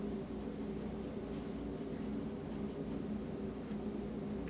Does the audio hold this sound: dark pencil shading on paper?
yes